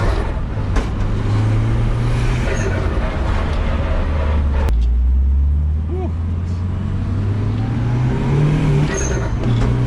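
A restored abandoned show car drives along with its engine droning steadily and rising in pitch as it accelerates, loud and continuous, with road and wind noise throughout.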